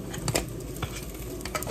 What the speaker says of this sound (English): My onions are slowly browning.